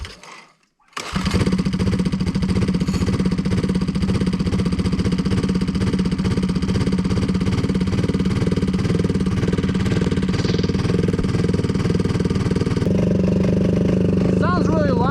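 Yamaha Moto 4 ATV engine held at wide open throttle, a loud, steady, rapid-firing single-cylinder roar that runs continuously after a brief quiet start, with a slight pitch shift near the end.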